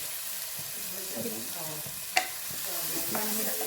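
Macaroni masala being stirred in a cooking pan, with scraping and soft sizzling in a steady close rhythm and one sharp clink of the utensil against the pan near the middle.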